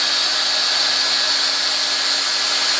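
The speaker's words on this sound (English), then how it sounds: "We'll just run along there with the tacking nozzle," A plastic welder with a tacking nozzle gives a loud, steady hot-air hiss and fan whir while tacking a plastic joint into position, continuous and close with no voices.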